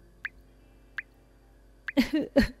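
Water drips from a leaking roof during rain in a poor home, three sharp isolated drops spaced apart, then a voice speaks briefly at the end.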